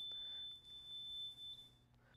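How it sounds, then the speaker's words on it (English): Fire alarm panel tamper signal set off by a partly closed OS&Y gate valve with supervisory switch: a thin, steady high electronic beep tone sounding continuously at low level in a quiet room, with brief breaks. "that is now ringing out our fire alarm panel"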